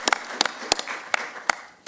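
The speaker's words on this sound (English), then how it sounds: "I think that deserves a round of applause for waiting" Scattered claps from a city council meeting audience, a handful of sharp separate hand strikes spread over a couple of seconds rather than full sustained applause, moderately close in a hall.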